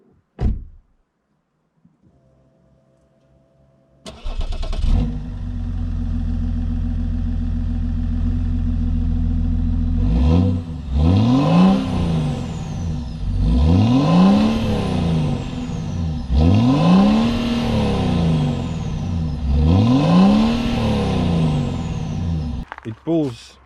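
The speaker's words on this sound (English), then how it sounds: "It's 3-liter diesel straight six with 184 horsepower and 410 Newton meters of torque." A 2003 BMW E53 X5 3.0d with the M57 3-litre diesel straight-six starts with a door clunk and cranking, then idles with a steady diesel rumble and revs up in four repeated rising swells, loud and close.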